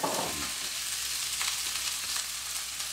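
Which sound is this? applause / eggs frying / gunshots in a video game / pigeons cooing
eggs frying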